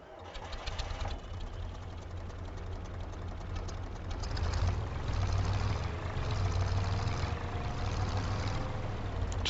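A diesel vehicle engine idling in Farming Simulator, a steady low rumble with a fine clicking, knocking texture and a faint whine, running continuously and swelling slightly partway through, with no talk.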